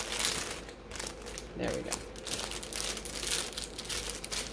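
Plastic bag crinkling and rustling as silky sublimated streetwear socks are slipped inside and the long bag is folded over, steady handling noise at close range with a brief spoken remark partway through.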